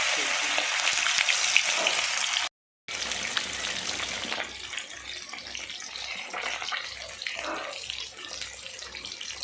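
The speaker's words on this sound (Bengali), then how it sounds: "তিনটে একসঙ্গে ভাজতে তুলে দিয়েছি এবার সব মাছগুলো এভাবে ভেজে নিচ্ছি" Three bata fish fry together in hot oil in a kadai, giving a loud, continuous broadband hiss and sizzle that breaks off briefly before carrying on.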